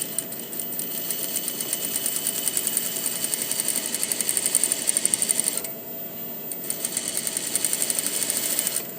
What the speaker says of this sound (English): I'm going to turn so that I can start edge stitching on the bottom part of the bag.